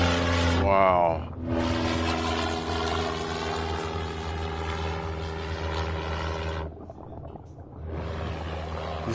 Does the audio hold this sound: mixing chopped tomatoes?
no